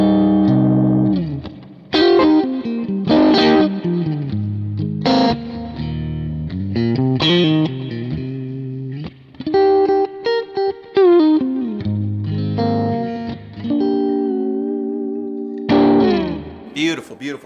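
Electric guitar through a Kemper amp profile with the spring reverb turned down plays a slow, distorted, sustained phrase of chords and single notes, loud and close with a light echo tail.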